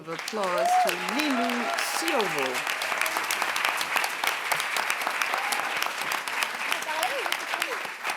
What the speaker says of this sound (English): Merci d'applaudir très fort Lilou